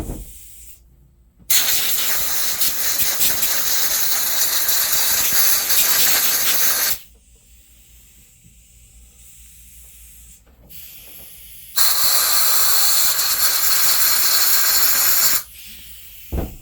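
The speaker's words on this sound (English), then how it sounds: "I'm going to take the air compressor here and blow it out a little bit more" Compressed air blasts debris out of a Stihl MS 180c chainsaw, giving two long, loud, close hissing bursts of about five and four seconds, separated by quieter handling noise.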